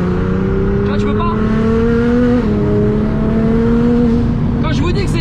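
A Nissan GT-R engine revs hard under acceleration, a loud steady drone climbing in pitch with a brief shift midway, close and continuous.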